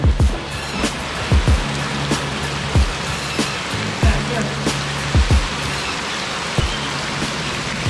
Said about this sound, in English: Beautiful waterfall.